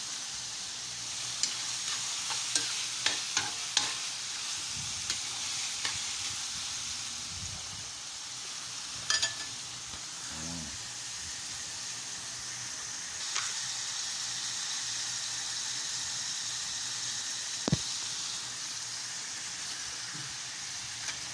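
Marinated meat stir-frying in a pan for pancit habhab, a steady broadband sizzle running throughout with scattered small clicks and pops of stirring.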